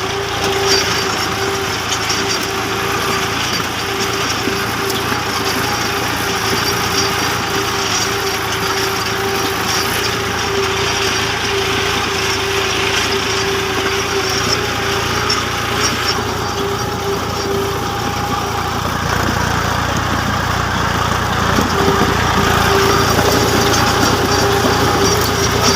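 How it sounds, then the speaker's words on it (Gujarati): A tractor engine runs at a steady idle, a continuous loud mechanical drone with a faint high whine, unchanging for the whole stretch. "ચાલુ થઈ ગયું છે ટ્રેક્ટર"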